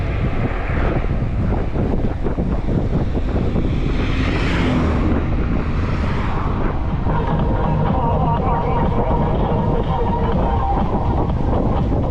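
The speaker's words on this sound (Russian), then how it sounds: "Капец, ветер." Strong wind on the Crimean coast near Koktebel roars continuously against the microphone, loud and buffeting, with a low rumble underneath throughout.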